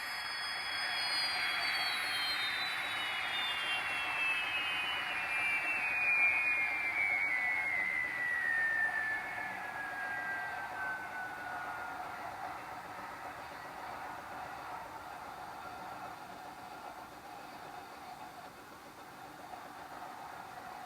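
An HO scale model diesel lashup rumbles along a layout, its sound-decoder engines giving a steady low drone while a high whistling tone slowly slides downward, faint and continuous throughout.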